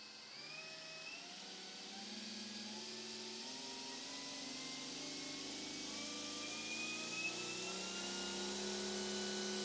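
EGO 350 PSI battery backpack sprayer motor ramping up to full power, a steady mechanical drone whose tones climb gradually and grow slightly louder over about ten seconds, heard alone.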